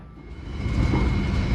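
The Argo Wilis passenger train picks up speed on its rails, a rising, steady rumble and clatter of wheels heard from inside the carriage, loud and continuous with a faint whine above.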